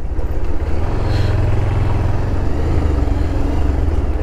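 A motor vehicle, likely a motorcycle, rides off along a road with a loud, steady low engine drone and rumble throughout, close to the microphone, no voices.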